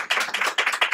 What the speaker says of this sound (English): I'd like our audience to please give our panel a big round of applause.